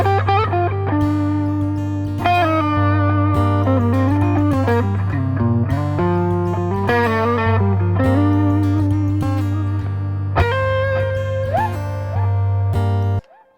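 A PRS SE Hollowbody electric guitar with distortion plays sustained, buzzing chords and melodic bends over a steady low drone, loud and continuous, ending abruptly.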